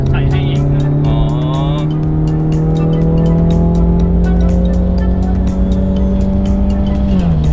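A Ford Mustang accelerates hard along a straight road, its engine note climbing in a loud, close, continuous drone with audible gear changes. Brief voices are heard inside the car.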